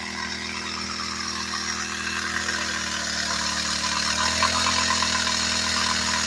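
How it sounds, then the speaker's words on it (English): Gas-powered gold dredge pump engine running near dusk while the pump has a fault, a steady close mechanical drone with a low hum that rises slightly in pitch partway through, with no talk. "Something wrong with my pump over there,"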